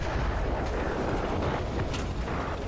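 A tank's ammo rack cooks off in War Thunder, a dense, sustained roar of explosion and burning crackle that fills the whole moment at steady loudness.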